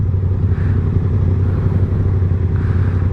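Yamaha R7 and MT-07 motorcycles riding through London, a loud, close engine drone steady throughout with road clatter mixed in.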